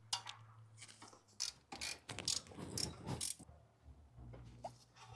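A ratchet tightens the two 13 mm brake caliper bracket bolts on a Fiat during a rear brake job, with close, quiet bursts of rapid clicking separated by short pauses.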